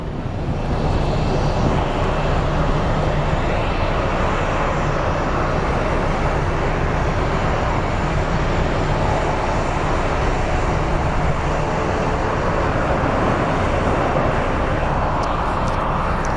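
An airliner takes off from Phoenix Sky Harbor airport, its jet engines giving a loud, steady broadband roar that holds strong for the whole stretch without a break.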